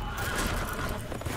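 A horse in a video game whinnies loudly over steady hoof clip-clops, the neigh rising and trailing off against a busy background.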